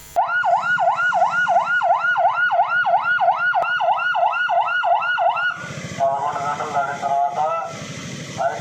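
A loud, steady two-tone wail from an ambulance siren cycles rapidly on a road during a curfew, with a police officer at the wheel; it drops into mixed traffic and street noise near the end.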